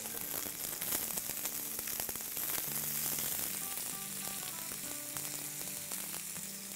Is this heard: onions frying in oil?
yes